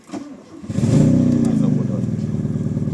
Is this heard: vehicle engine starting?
yes